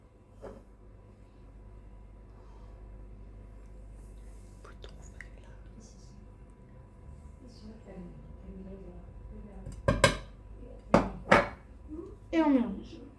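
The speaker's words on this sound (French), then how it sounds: "Et on mélange." Whisk or spoon clinking against a bowl while almond powder and cornstarch are stirred into an egg batter for an apricot amandine, a few sharp scraping bursts near the end after quiet murmured talk.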